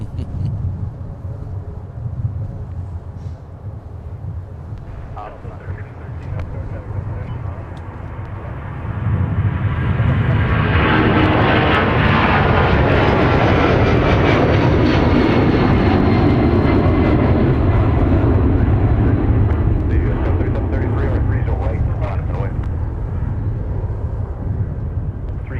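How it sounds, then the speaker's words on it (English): A Delta Boeing 757-300 rolls for takeoff at Minneapolis–Saint Paul airport, its jet engines swelling from a distant hum into a loud, sustained roar that holds steady for many seconds before easing slightly. "here we've got Delta 308 on the roll, 757-300, one of our favorite aircraft here"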